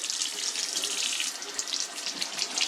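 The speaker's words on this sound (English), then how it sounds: "I think it's good to wash this down, the outside part, with soap and water" Tap water runs steadily over the outside of a Berkey water filter being washed down with soap, a continuous close splashing hiss from start to finish.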